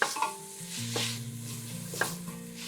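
Shallots sizzle softly in a pot for Tuscan white bean soup while a utensil stirs and scrapes against the bottom in a few faint strokes, with a low tonal hum underneath.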